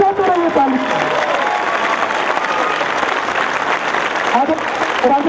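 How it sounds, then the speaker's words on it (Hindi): Dense, sustained applause from a large crowd at a political speech rally in Hyderabad, loud and continuous, with a voice speaking over it. "बजाते रहिए ताली।"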